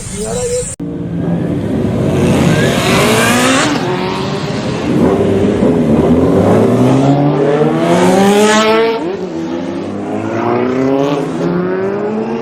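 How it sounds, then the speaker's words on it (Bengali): Five motorbikes start and rev together on a street, their engines rising and falling in repeated overlapping sweeps, loud and close, with voices in the background. "We're starting 5 bikes."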